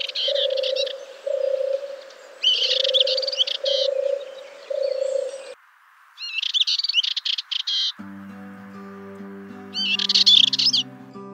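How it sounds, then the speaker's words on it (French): A Dartford warbler sings in bursts of scratchy, rapid chattering phrases at Plaines-Villes, Ploufragan, in June, with repeated lower tonal calls at first and faint background tones later. "cette fauvette pitchou est cependant un oiseau qu'on ne peut pas confondre en raison de sa petite taille"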